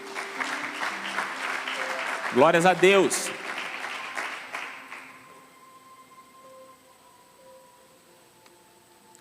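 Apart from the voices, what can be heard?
congregation applauding in church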